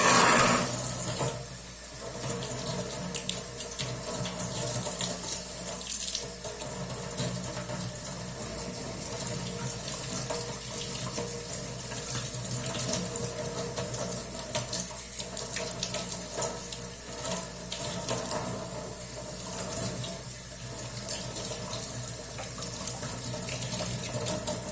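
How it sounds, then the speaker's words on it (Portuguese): Moringa sprigs are rinsed under a running tap, a steady broadband hiss of water that continues unbroken for about twenty-five seconds, fairly faint and without speech. "eu vou lavá-los bem em água corrente"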